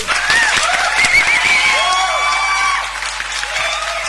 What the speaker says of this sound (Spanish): un aplauso más para ellos